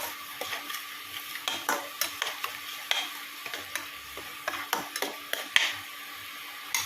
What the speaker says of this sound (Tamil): இப்போ நல்லா அது வதங்கட்டும். அந்த பச்சை வாசனை போய் நல்லா அது சுண்டி அந்த ஈரப்பதம் நல்லா சுண்டி வரணும்.